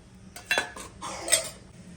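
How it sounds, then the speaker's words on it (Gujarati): Peanuts sautéed in ghee in a kadai give a few close metallic clinks and scrapes of a utensil against the pan over a quiet background. "સૌપ્રથમ આપણે એક કઢાઈમાં ઘી લઈને સિંગદાણાને સાંતળી લઈશું"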